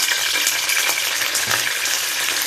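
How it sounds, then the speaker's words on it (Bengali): Water poured into a pan of frying turnip and chopped onion in oil, setting off a loud, steady hiss and sizzle with faint stirring, no voices. "এবার একটু পানি দিয়ে দিই"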